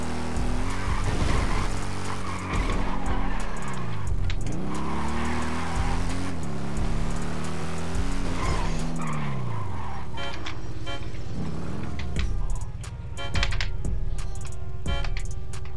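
A car in a roleplay driving video game revs hard as it accelerates, then its tires squeal through repeated skids over a steady loud engine drone, with no talk.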